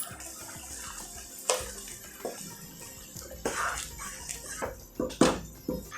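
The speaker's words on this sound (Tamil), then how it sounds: "ஸோ இந்த கப்லேயே இன்னும் கொஞ்சம் தண்ணி விட்டு நல்லா இதை எல்லாத்தையும் ஃபுல்லாக அலசி விட்டுடலாம்." Water splashes and pours into a cup to rinse out leftover ground coconut paste while cooking kurma. The splashes come in several short, uneven bursts over quiet kitchen background, close by and moderately loud.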